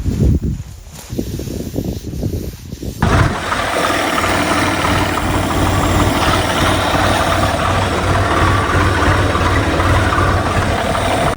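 John Deere tractor engine running in a farm field, a loud, steady diesel drone with a low rumble that starts abruptly after a quieter rustling opening and holds constant to the end, no talk.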